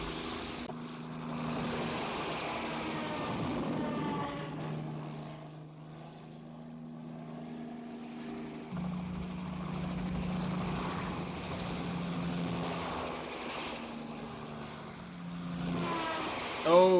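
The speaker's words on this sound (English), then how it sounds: "Bond and Tanya leave the train and hijack Grant's getaway car before being attacked by a Spectre helicopter." A Spectre helicopter attacks in the film From Russia With Love, its rotor chopping steadily and loudly throughout, with engine drone rising and dipping as it swoops, against a faint musical score.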